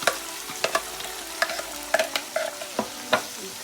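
Blended onion frying in a pot for Gambian-style jollof rice (benachin), with a steady soft sizzle under a handful of scattered stirring scrapes and clinks, close by and moderately loud, no talking.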